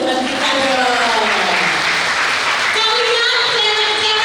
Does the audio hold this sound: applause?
yes